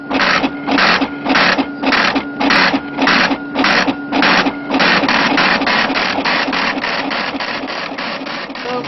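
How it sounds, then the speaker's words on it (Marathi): An up-to-date braille printer embossing books runs with a loud, rapid train of evenly spaced mechanical strikes, first in distinct bursts, then in a steadier continuous run of rhythmic clatter. "हा ब्रेलचा अद्ययावत प्रिंटर सध्या राज्यभर अंध मुलांना पुस्तक पुरवण्याचं काम करतो."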